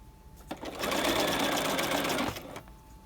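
A sewing machine runs a single steady burst of stitching as it sews fabric piping over cord, starting and stopping cleanly with near, even mechanical whirring, and a few soft handling sounds before and after.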